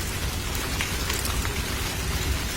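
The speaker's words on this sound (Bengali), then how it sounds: "বাহিরে ঝড় বৃষ্টি হচ্ছে।" Rain storm in a cartoon, a dense, loud, continuous downpour hissing and pattering on surfaces without break, no voices.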